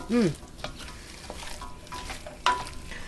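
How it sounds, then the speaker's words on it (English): Curry spices and aromatics stirred in a hot pan for chicken and sweet potato stew, a steady soft sizzle with scraping stirs, a tonal clink or squeak early on and a sharper knock near the end. "Now you guessed it, we have to saute these off for about 3 to 5 minutes"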